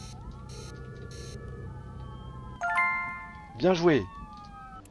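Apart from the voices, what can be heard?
ambulance siren in the video game City Eye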